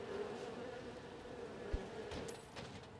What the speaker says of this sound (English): What do I hear? Flies.